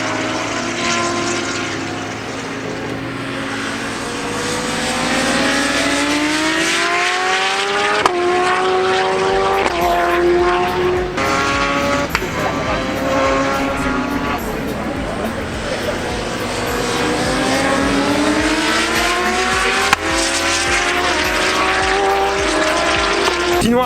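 A BMW S1000RR sport motorcycle accelerates hard, its engine note climbing repeatedly through the gears with sharp shifts, loud and close, as wind rushes past.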